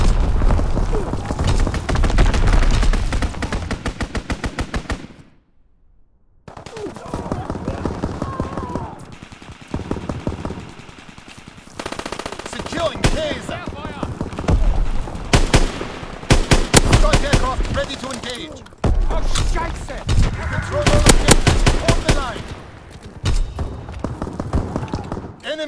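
Call of Duty: WWII strafing-run gunfire on Shipment 1944 in domination mode hammers in loud repeated bursts of rapid shots and booms, pausing briefly near the start, with voices calling out over the barrage.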